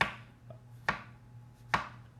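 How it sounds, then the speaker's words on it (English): Flat-edged kitchen knife chopping homemade pizza toppings on a board, three crisp, evenly spaced chops over a quiet background hum. "it's really great for chopping just about anything that you don't want super fine."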